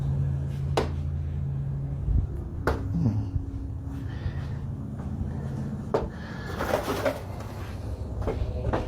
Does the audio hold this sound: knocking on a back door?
yes